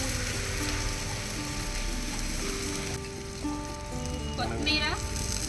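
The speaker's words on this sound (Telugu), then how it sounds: "కరివేపాకు, పుదీనా వేసేసుకుంటున్నాను." Curry leaves and mint drop into hot oil over fried onions in a kadai on a wood-fired stove for chicken biryani, making a loud continuous crackling sizzle with a brief metallic scrape near the end.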